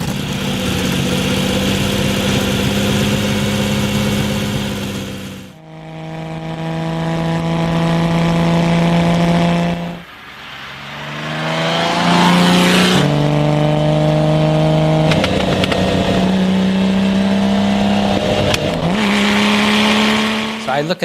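A collector car's engine revs hard toward 6,000–7,000 RPM in repeated rising pulls, each climb broken by a brief drop between gear changes, loud and close throughout with no talk over it.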